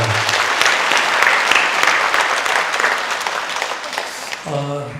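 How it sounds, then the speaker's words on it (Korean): Steady applause from a church congregation during a worship service fills nearly the whole stretch, dense and even, fading out just before a brief tonal note at the end. "우리 박수로 환영하겠습니다"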